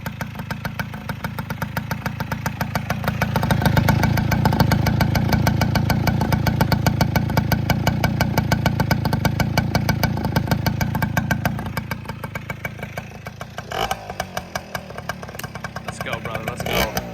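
A 1996 Tomos Sprint moped engine idling right after its first startup in months, a near, steady putter with a rapid even rhythm, swelling slightly midway, as people talk excitedly over it.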